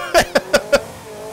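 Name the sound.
creaky old car suspension in video game Forza Horizon 5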